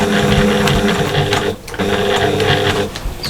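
A sewing machine runs close and loud, stitching fabric with a rapid, even mechanical chatter, pausing briefly midway before starting again.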